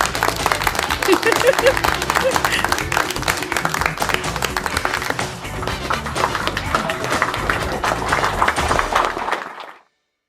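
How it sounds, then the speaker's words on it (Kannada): A group clapping steadily and rhythmically for several seconds over loud music and voices, stopping abruptly just before the end. "ಚಪ್ಪಾಳೆ ಚಪ್ಪಾಳೆ."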